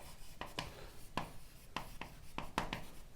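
A marker or chalk taps and scratches on a board during a chemistry lesson in a sequence of short, quiet strokes at an irregular pace. The strokes are close and faint, and nobody talks.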